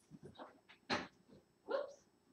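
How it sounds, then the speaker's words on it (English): A dog gives soft, close whimpers and whines in a few short bursts, one slightly louder and higher, all fairly quiet. "Are you gonna bark at me?"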